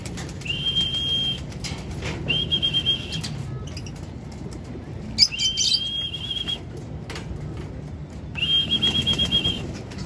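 Pet pigeons being let in by their keeper on bathing day, with wings flapping in bursts and short high chirps and whistles recurring against a steady background hum.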